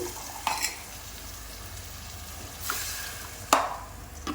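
A spoon stirs a spiced curry frying in a pan, with a soft, steady sizzle underneath. A few sharp scraping strokes of the spoon stand out, with no voices.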